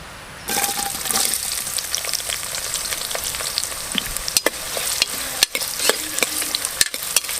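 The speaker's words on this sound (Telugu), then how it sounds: "సన్నగా కట్ చేసిన ఉల్లిగడ్డలు వేసుకోవాలి" Finely sliced onions drop into hot oil with cloves, cinnamon and cardamom for a village-style spicy mutton curry, breaking into a loud steady sizzle with scraping stirs and a few sharp knocks of the spoon against the pan.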